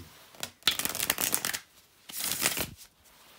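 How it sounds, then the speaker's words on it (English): Tarot cards being shuffled by hand, two close, crisp riffling bursts separated by a short pause, with no talk over them. "bear with me just a second, guys, to shuffle the tarot cards."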